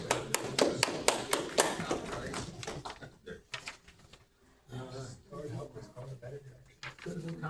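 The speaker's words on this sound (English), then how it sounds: "I think we should have a round of applause for the new trustees" Brief scattered applause for new trustees at a regular board meeting, a few sharp hand claps at the start that thin out and give way to people talking nearby.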